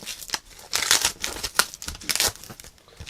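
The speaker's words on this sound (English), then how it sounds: "Slicing this tape." Packing tape on a cardboard box being sliced and pulled, giving a run of crackly, tearing bursts at close range with short pauses between them.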